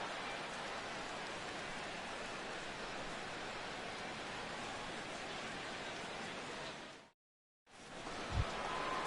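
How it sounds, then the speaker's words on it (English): Rain falls steadily at a baseball stadium during an MLB regular-season game, a dense, even hiss that runs unbroken for about seven seconds, cuts out briefly, then returns with a faint thump. "the rain continues to fall here"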